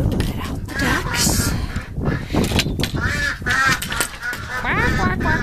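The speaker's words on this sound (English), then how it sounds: "We are going to let out the ducks." Ducks quack loudly and repeatedly in a noisy flock, with a person talking over the calls.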